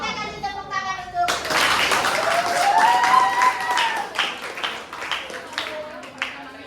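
An audience at a teachers' gathering in West Kalimantan breaks into sustained, fairly loud applause after a short stretch of talk, the clapping dense and continuous before thinning out near the end.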